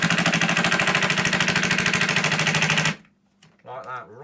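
A power driver rapidly drives a fixing into a wall while mounting a floating shelf, a loud fast rattling hammer-like burst lasting about three seconds, then stopping abruptly, followed by a short spoken voice.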